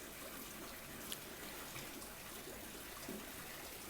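Artesian well water pours steadily into a shower tray at a koi fish breeding pond, a faint, even hiss of running water that continues without a break.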